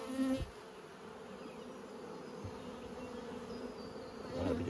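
Honey bees hum in a steady, dense drone around opened nucleus hives being moved into larger boxes on a humid day, the buzz close and continuous with a few brief knocks.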